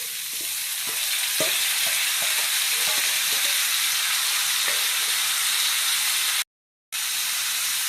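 Steamed bottle gourd peels frying in a wok with salt and turmeric, a bright, steady sizzle close by, broken by scattered scrapes and taps of stirring and one short silent gap.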